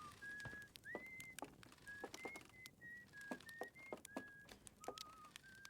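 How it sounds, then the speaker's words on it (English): Esker, a character in the video game Outer Wilds, whistles the main title theme melody as a string of clear, sustained whistled notes, each set off by short clicks and crackles from a campfire beside him. "I like how Esker is whistling the melody of the main title theme."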